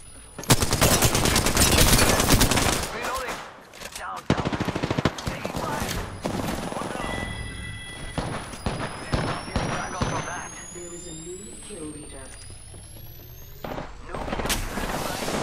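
Heavy automatic gunfire and explosions fill a firefight in a battle royale video game squad match, loud bursts and rattles dominating much of the clip, with game sounds and occasional talk mixed in.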